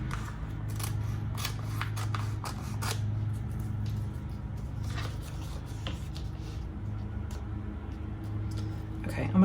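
Scissors snip paper for a junk journal in a steady run of short cuts through the first few seconds, close by, with quieter rustling and handling afterwards over a low steady background hum.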